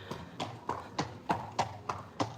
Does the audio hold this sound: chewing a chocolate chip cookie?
no